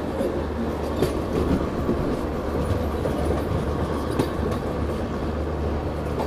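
An Indian train passes on the railway at Sevagram Junction with a continuous loud rumble and rolling wheel noise, heard close and filling the whole stretch.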